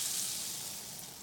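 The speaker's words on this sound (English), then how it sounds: "I always use a high burner to cook eggs" Eggs frying in a pan over a high burner give off a steady, dense sizzle that stays even throughout, close and fairly loud with no voices.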